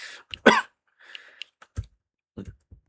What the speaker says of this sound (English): I'm only coughing.